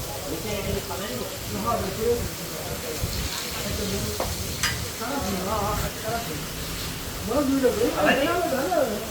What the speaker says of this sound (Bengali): এখানে অন্য আরেকজনের মাছ বাজা হচ্ছে